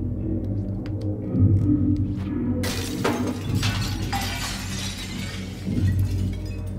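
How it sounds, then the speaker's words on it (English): A mirror smashes in the video game Little Nightmares, with a sudden bright crash of shattering glass over a low, steady rumbling game backdrop, followed by scattered tinkling debris. "let's try smashing the mirror"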